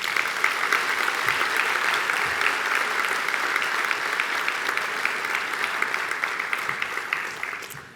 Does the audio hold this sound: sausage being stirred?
no